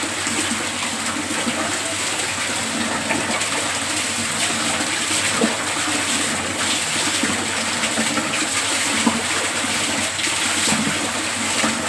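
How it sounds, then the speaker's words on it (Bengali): Running water gushes and splashes continuously as shampoo is rinsed out of hair, a close, steady pouring sound with no one talking. "শ্যাম্পু করার পরে চুলটা খুব ভালোভাবে ধুয়ে নিচ্ছি"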